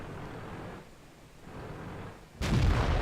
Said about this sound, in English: And pops out, takes a shot, kills the T-34